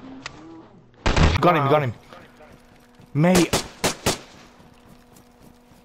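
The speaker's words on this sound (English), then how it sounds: "He's shooting on the floor! Shoot him!" Gunshots in the DayZ survival game: a sharp shot, then a loud, rapid burst of several shots in quick succession, with excited voices talking over the action.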